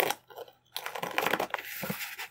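Sheets of paper are folded and stuck down onto the corners of a cardboard box, making crisp, close rustles and quick tapping crinkles that come in uneven bursts, with a brief quiet gap early on.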